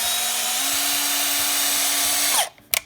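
A power drill spins a suction-cup tool to lap an Audi 1.8T valve, a steady close whine held for over two seconds that shifts pitch slightly, then cuts off abruptly, followed by a couple of brief clunks.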